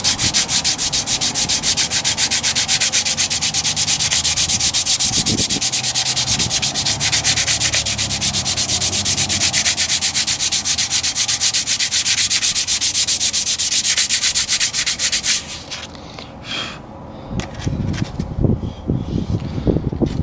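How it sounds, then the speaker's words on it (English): Continuous, loud scratchy rasping of 220-grit sandpaper rubbed over AK rifle wood furniture for a long stretch, then a pause followed by a few softer scraping strokes. "And not that many people are doing sanding projects in their houses"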